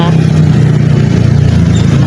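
Many motorcycles pass along a road in a steady, dense stream, their engines blending into a continuous close rumble with no breaks across the whole stretch.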